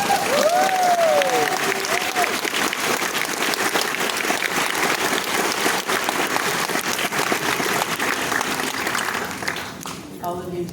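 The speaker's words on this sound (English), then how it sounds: "Welcome, graduates. Round of applause." Sustained applause from a crowd at a graduation ceremony for the graduates, dense and steady for about ten seconds, with a whistle near the start and cheering voices over the clapping.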